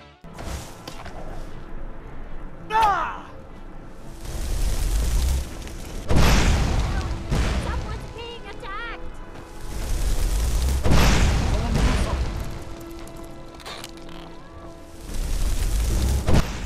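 Repeated booming explosions burst at intervals as video game enemies explode like popcorn from a weapon, punctuated by sharp pops and whooshes, with German speech at times over the game action.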